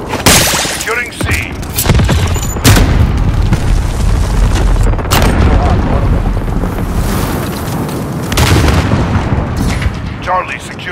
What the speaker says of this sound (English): Dropping white phosphorus.